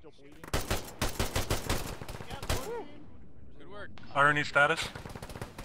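Video-game gunfire from bunkers comes in dense, rapid bursts of crackling shots that overlap one another, with voices talking over the shooting.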